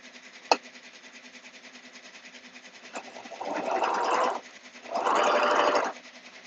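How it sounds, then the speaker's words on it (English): A sewing machine stitching the fabric ends of a scrunchie together, a steady fast mechanical whir with two louder bursts of stitching near the end, and a sharp click at the start. "I'm going to sew those ends together now"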